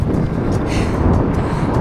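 A cyclist's headwind buffets the microphone, making a loud, steady low rumble of wind noise with gusty fluctuations and no talk.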